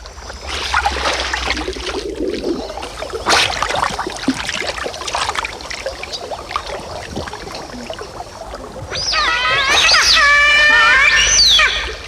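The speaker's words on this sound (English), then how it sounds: "It's the cry of a giant otter." A giant otter gives a drawn-out, unearthly wail from the river, a series of high, wavering calls rising loud near the end over steady water and background noise.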